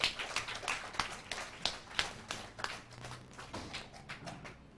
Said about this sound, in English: let's give all of us a round of applause for keeping the library for 100 years